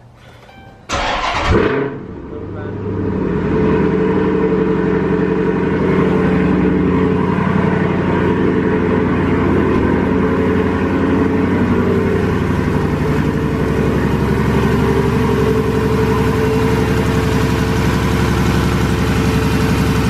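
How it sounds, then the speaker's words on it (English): A 2012 Dodge Charger after a water pump replacement cranks and catches within a couple of seconds, then settles into a loud, steady, low idle that runs on alone. "let's start the car and make sure that everything else is running fine"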